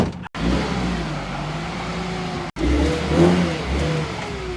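A Maruti Gypsy jeep's engine revs and pulls away in two bursts, a steady mid-pitched drone that rises and falls, close and fairly loud, with a brief cut between.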